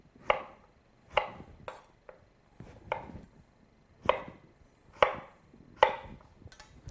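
A knife chops kabocha pumpkin pieces on a cutting board, seven or eight sharp, separate thunks at an uneven pace, close and clear with quiet gaps between strokes.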